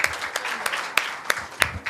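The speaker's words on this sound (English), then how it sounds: "A huge round of applause" Audience applause at a celebrity talk show event, sparse distinct claps with a few sharp louder ones standing out over a softer clapping bed, fairly close.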